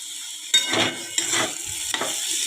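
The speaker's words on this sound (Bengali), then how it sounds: "আলুটা ভাজা ভাজা হয়ে গেছে" Potatoes frying in a pan, a constant close sizzle broken by three bursts of stirring and scraping, with no voices.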